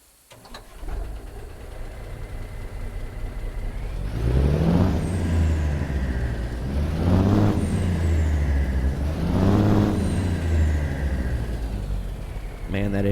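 A Cummins N14 truck engine, chip-tuned to 800 horsepower and paired with an 18-speed gearbox and retarder, in American Truck Simulator. It revs up in three rising surges with a deep diesel drone between them and an air-brake hiss at the start.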